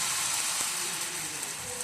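An omelette paratha fries in oil on a pan, giving a steady, even sizzle that stays close and moderately loud throughout, with no voices on top.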